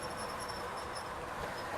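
A model train runs into a tunnel on a layout, giving a steady, fairly faint rolling rumble with a thin high-pitched whine over it, continuous and without speech.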